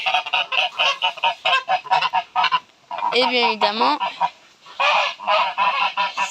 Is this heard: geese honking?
yes